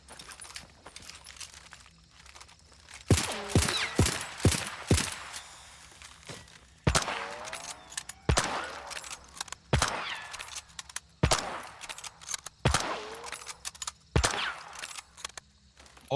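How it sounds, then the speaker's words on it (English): Gunshots in Hunt: Showdown, a series of loud, sharp reports spaced a second or two apart, with an early quick cluster, alternating with metallic lever-action reloading clicks and quiet ambience between shots. "All shots were easy to hear."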